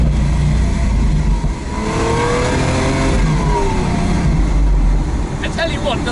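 Lamborghini V12 in sport mode revving hard from inside the cabin, a loud continuous engine roar with rising and falling pitch sweeps, while people talk over it.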